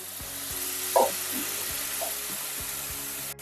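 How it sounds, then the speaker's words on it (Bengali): Spring onions frying in a home kitchen pan: a steady, even sizzle throughout, with a few soft scrapes and clinks from stirring, and no voices. "যেমন স্প্রিং অনিয়নটা হয়ে এসছে আমি মাঝখানে একটু জায়গা ফাঁকা করে নিয়ে এসেছি"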